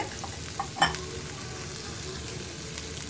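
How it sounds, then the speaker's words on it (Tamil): Onions fry in oil with fennel seeds, giving a soft, quiet sizzle with a few small crackling pops and no talking. "ஒரு அரை டேபிள் ஸ்பூன் பெருஞ்சீரகம் தாளிச்சுண்டு வெங்காயத்தை போட்டு வதக்கிக்கணும்"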